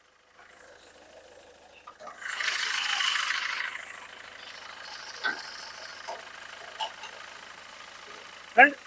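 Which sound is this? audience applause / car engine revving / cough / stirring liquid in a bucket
car engine revving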